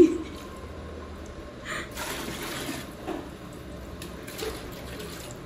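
Water trickles and splashes into a glass fish tank, poured slowly in a soft, close stream with a few brighter splashing bursts, fairly quiet and without talk.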